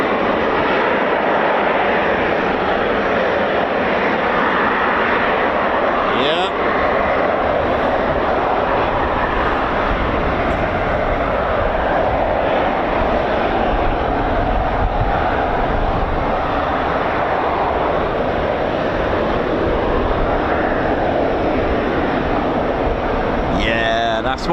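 Rolls-Royce EJ200 jet engines of a Eurofighter Typhoon FGR4 run up at RAF Coningsby, a loud, sustained whining roar holding steady throughout, with brief sharp rising whine sweeps and some talk faintly in the background.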